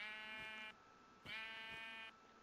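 Minecraft sheep bleating twice, each bleat a buzzy, wavering call close by and moderately loud over faint game ambience.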